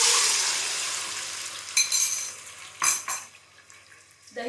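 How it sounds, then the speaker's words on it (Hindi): Yogurt poured into a hot pot after frying onions for korma gives a loud sizzle that fades away, followed by a few sharp clinks and scrapes of a spoon against the pot, with no talking. "अब हम इसमें डालेंगे 1 पाव दही"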